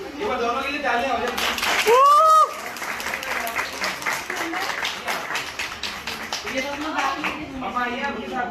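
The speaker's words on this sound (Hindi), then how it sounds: "ये बार दोनों के लिए तालियां हो जाए" Clapping from guests at a kids' birthday house party, a burst of hand claps mixed with lively chatter and a short whistle-like squeal, people talking throughout.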